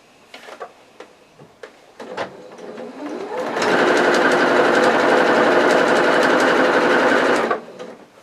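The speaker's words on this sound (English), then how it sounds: "So you pinch the fabric here and then carry on sewing down the second side" Sewing machine stitching bias binding down the second side of a corner, with a loud steady motor whir lasting about four seconds after some soft handling clicks and a rising start, close up and without talk.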